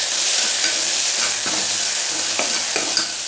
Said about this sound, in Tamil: ஆட் பண்ணிவிட்டு இதை அடி பிடிக்காமல் கொஞ்சம் நல்லா கிளறணும்